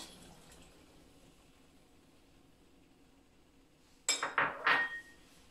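Water poured into a pot of boiling pork dumplings (jiaozi): a loud, brief splashing gush of a bowlful of water after a quiet stretch of low bubbling, close by.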